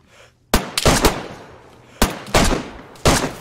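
Gunfire in the video game DayZ, with several sharp close shots in three clusters: a quick burst of three, then another group of three, then a single crack, each with a short decaying tail.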